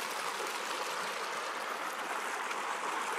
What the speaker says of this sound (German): Schön an so einem fetten Bach hier.